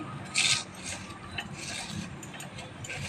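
Cucumber rubbed over a coarse kitchen grater for a spicy-sweet Maharashtrian cucumber dish, giving faint, close scraping rasps with one brighter grating stroke near the start.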